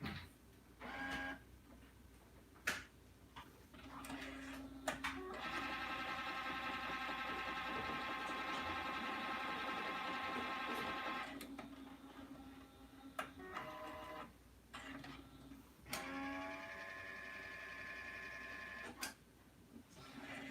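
An Epson P600 inkjet printer with clogged nozzles whirs and clicks through a cleaning cycle: mechanical clunks, then sustained motor drones with pauses between, fairly close and moderate in level.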